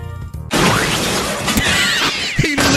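A cake gets smashed in a cartoon animation, a loud crashing splat with breaking and whooshing effects that fills most of the short stretch.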